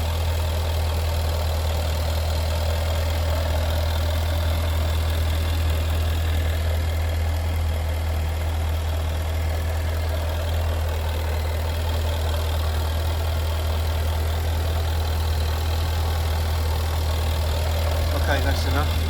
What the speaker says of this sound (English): Got the glorious supercharged 5 litre petrol here.